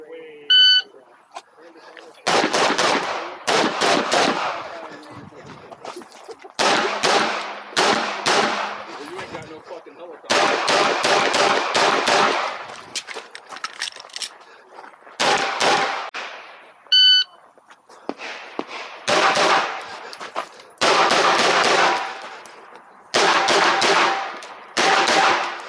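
Glock 43X pistol fired during IDPA match stages, loud close strings of rapid shots in separate bursts with pauses between, a timer beep and talk also present.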